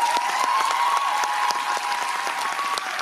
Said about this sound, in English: I think he deserves a round of applause for that.